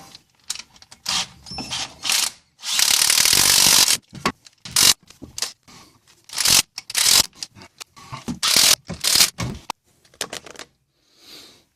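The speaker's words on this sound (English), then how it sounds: "once you have all the bolts in place, so go ahead and tighten them down" A ratchet tightens the front axle bolts on a 1996-2004 Nissan Pathfinder, with loud, close bursts of rapid clicking separated by short pauses and one longer continuous run of clicks.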